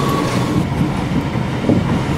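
An R62A subway train in the Trainz 12 simulation rolls along steadily, wheels rumbling and clacking continuously at close range with no voices, a faint high squeal showing early on.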